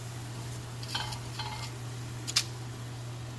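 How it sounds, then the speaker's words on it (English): Tortilla chips tipped into a pan for chilaquiles and stirred over low flame: a few scraping, clinking stirs with a brief sharp knock near the end, over a steady low hum, no talking. "now let's add our chippies"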